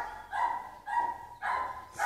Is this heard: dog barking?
yes